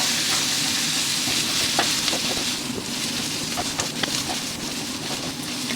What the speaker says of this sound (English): we're going to fry this onion until it's golden brown color.